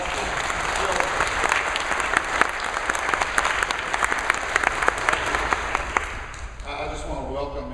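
An audience at a historic preservation neighborhood meeting applauds, steady dense clapping that holds for several seconds and then fades as a voice begins talking.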